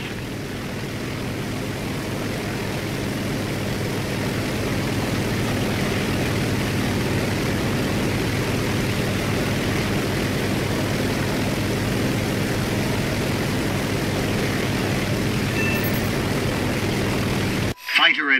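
Steady droning engine of an attack aircraft in the War Thunder video game, a continuous loud hum held for about eighteen seconds, then cut off abruptly near the end, with a voice talking over it.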